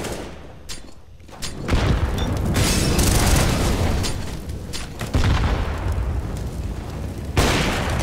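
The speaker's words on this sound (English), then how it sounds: "Throwing a grenade. Throwing flashbang." Grenade explosions in CS:GO, several heavy booms and blasts with rumbling tails, loud and close, with gunfire-like bursts between them and no speech.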